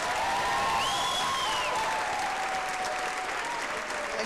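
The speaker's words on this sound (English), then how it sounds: "Can we hear a louder round of applause for her?" Sustained audience applause at a stage event for a theatre group, a dense steady wash of clapping across the whole stretch with a few faint tonal whistles or cheers riding over it.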